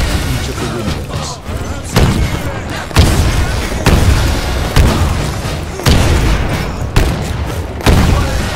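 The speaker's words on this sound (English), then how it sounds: "Throw a grenade into each of the windows." Grenade explosions in the Titanfall video game boom loudly, each blast a heavy thud about once a second in a regular series under a dense layer of game noise.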